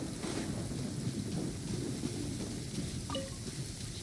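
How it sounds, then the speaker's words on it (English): Steady rain falls in the video game Genshin Impact: a constant wash of rainfall with a low rumbling undertone, moderately quiet and unbroken, with a faint brief chime near the end. "It always rains when I go on an adventure."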